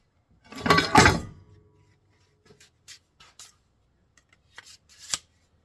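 A knife blade sliding into a homemade sheath of PVC tube, heard as a burst of scraping, rustling friction followed by a few faint clicks and taps.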